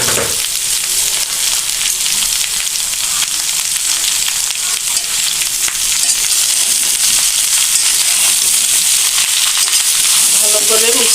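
Olive pickle being stirred and cooked in a pan, a loud continuous sizzle with dense crackling and scraping throughout, close up and unbroken.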